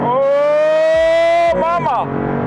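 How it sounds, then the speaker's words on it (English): Maserati MC20 engine in manual sport mode, a loud sustained droning note heard close up that breaks into quick rev blips and shifting pitch as the car downshifts. "press the button in manual transmission, downshift, downshift, downshift again"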